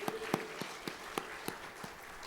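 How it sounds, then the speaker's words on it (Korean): A congregation in a church service claps in slow, rhythmic unison, around eight distinct beats at a steady tempo, fairly faint and with a few voices underneath. "금년 한 해 우리를 지켜주신 하나님께 영광의 박수를 올려드리겠습니다"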